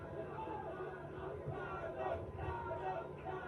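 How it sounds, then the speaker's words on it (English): A small group of fans cheers for a Nashville boxer at ringside during a light heavyweight main event, a steady crowd babble with rising shouts that swell now and then throughout. "Sando, being from Nashville, you can hear has a nice little cheering group behind him"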